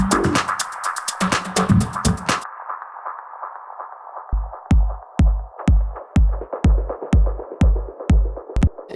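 A drum clap runs through a dub-style ping pong delay with reverb and sidechain compression, giving a quick cluster of hits followed by a steady train of repeating echoes over a sustained hazy wash.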